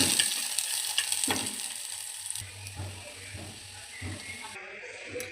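Onions sizzle in hot oil in a home kitchen, a soft continuous frying hiss broken by occasional stirring clatters, with a voice talking over it.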